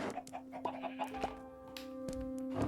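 Chickens in the video game Relaxed Islands, a flock of about thirteen or fourteen bred birds, clucking in short scattered calls with a steady tonal hum beneath.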